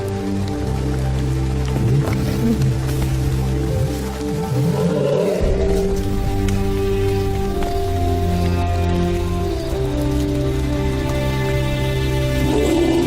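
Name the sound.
rain falling on lions in the wild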